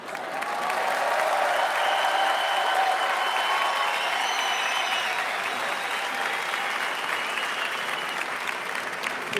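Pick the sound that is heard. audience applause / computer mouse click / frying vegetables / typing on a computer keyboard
audience applause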